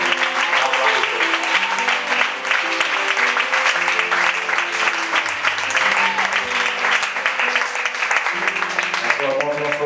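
Church seminary congregation applauding and cheering over loud worship music with harmonic tones, steady and dense throughout, with voices mixed in.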